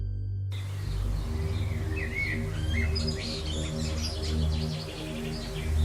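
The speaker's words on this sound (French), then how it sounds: "Là, le chant des oiseaux, mêlé au bruissement des feuilles" Birds chirping and trilling in a forest, several bright calls rising over a steady low ambient hum, moderately close.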